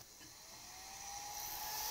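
The cooling fan of a Traxxas X-Maxx RC car with a Schwabentec Velociraptor 1000 motor whirs quietly after switch-on, a faint steady hum and whine rising slightly over two seconds, heard alone.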